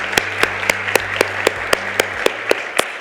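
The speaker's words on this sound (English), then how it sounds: "let's give them a warm round of applause" Sparse applause at the 2023 Innovation Awards ceremony: sharp, evenly spaced claps, roughly four per second, ring out over a steady low hum, fairly close and moderately loud.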